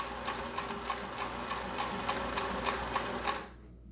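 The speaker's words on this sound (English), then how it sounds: "I'm sewing just to this side of my first seam allowance" A sewing machine stitches a cloth mask in a fast, even run of mechanical clacks, close and moderately loud, then stops abruptly near the end.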